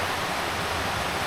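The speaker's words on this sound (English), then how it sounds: "Moving water." Dense, steady rush of moving water from a stream or waterfall near a portage in the Boundary Waters, a continuous broadband roar with no pauses.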